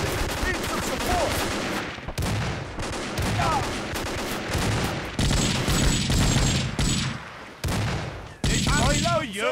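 Dense gunfire from a war video game: rapid automatic bursts and single heavy shots crack loudly and almost without pause, mixed with shouting voices and a few whistling projectile sounds.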